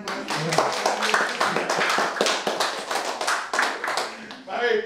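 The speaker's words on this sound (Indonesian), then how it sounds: "Boleh dong tepuk tangan yang keras" Church congregation clapping loudly and rhythmically at a fellowship gathering, steady sharp handclaps filling the whole stretch with voices mixed in.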